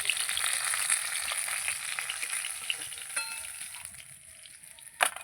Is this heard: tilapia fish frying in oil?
yes